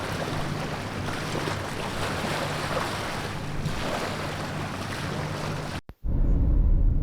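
Ocean waves wash onto the beach at Punta Gorda, a steady broad rushing hiss under wind noise, then a brief cutout followed by a louder, closer rumble.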